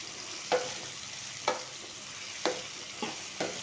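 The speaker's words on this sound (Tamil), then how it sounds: "பூண்டு, வெங்காயம் நல்லா வதக்கணும்." Garlic, onion, tomato and mint being stir-fried in a pan for chicken curry, with a few distinct spoon scrapes at irregular intervals over a faint, steady sizzle.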